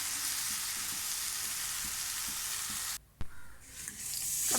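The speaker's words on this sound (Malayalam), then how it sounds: "അപ്പോൾ ഞാൻ എൻ്റെ പപ്പടവും കൂടി വറുക്കുന്നുണ്ട്" Pappadam frying in hot oil gives a steady, dense sizzle with soft crackles, then cuts off abruptly, followed by a sharp clatter and the sizzle building again.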